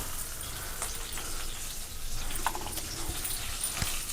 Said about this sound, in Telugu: ఇదిగోండి ఆయిల్ హీట్ అవ్వగానే తాలింపులు ఏమి లేదండి శనగపప్పు మినపప్పు ఆవాలు జీలకర్ర ఇగో ఎండుమిర్చి కరివేపాకు